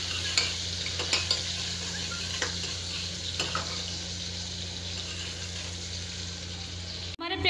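Chopped onion sizzles steadily in hot oil in a pan with cumin, a close, continuous frying hiss with a few brief stirring knocks and no speech.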